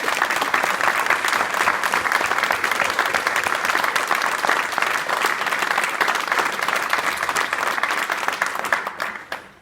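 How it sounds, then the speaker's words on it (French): Sustained warm applause from an audience at an ice rink inauguration in Chemillé, steady and dense throughout before tapering off at the end. "je pense qu'on peut t'applaudir"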